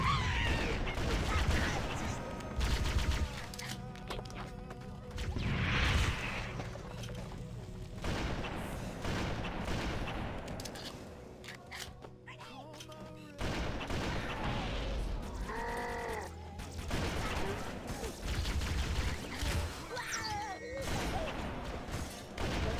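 Dense video-game gunfire in Halo CE on Legendary, with bursts of shots and booms filling most of the span under in-game voices and a player's talk.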